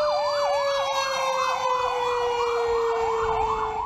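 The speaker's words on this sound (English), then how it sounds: "Sirens could be heard from every direction in Passaic as the fire raged out of control." Wailing emergency sirens rise and fall continuously alongside a steady high tone, loud and sustained with no talking, responding to a large fire raging in Passaic.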